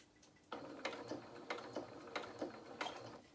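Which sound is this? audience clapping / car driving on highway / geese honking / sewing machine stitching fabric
sewing machine stitching fabric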